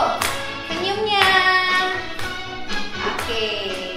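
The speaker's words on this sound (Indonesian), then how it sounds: "Tepuk tangan yuk." Young children at a care center clap along during a song about five loaves and two fish, with sharp claps landing in an uneven rhythm among singing voices and a tonal melody.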